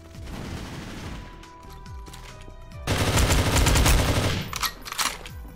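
Rapid automatic gunfire in the game GTA RP, bursts of shots that swell into a louder, denser volley midway before trailing off, with no talking.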